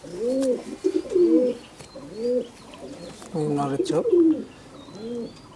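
Madrasi Kalanka pigeons coo in a repeated rolling series of soft, throaty calls, close by, while someone speaks briefly over them.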